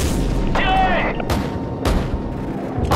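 Cannon fire in Call of Duty Modern Warfare: a few heavy booms land in quick succession with a whooshing shell sound between them, loud and close over game background noise.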